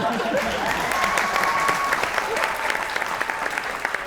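Studio audience of a Pakistani TV talk show breaks into steady, dense applause that continues throughout, close and loud, with a faint voice briefly audible beneath the clapping.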